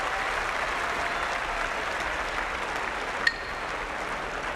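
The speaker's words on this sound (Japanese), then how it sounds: "場内から弓取式に拍手が回っています。" An arena crowd at a sumo tournament in Kyushu applauds the bow-twirling ceremony, a steady, even wash of many clapping hands heard from a distance, with one brief bright ping partway through.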